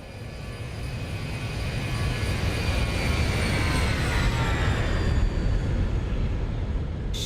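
A Boeing 737 in the X-Plane 11 flight simulator roars past in a close flyby, a loud, steady engine drone with a rising whine that fills the whole stretch without talk.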